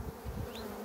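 Agitated honey bees at a hive buzz in a low, steady drone, close and faint, over less than a second.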